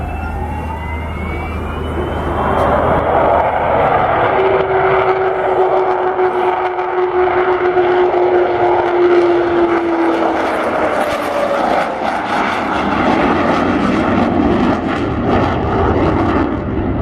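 An Avro Vulcan delta-wing bomber flies an air display at Waddington, its engines roaring loud and continuous with a rising howl and a long sweeping whine as it passes overhead, no voices over it.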